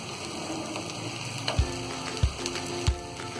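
Egg sizzling in a hot pan for restaurant-style chicken fried rice, a steady soft frying hiss with three low utensil knocks against the pan, fairly quiet and without talk.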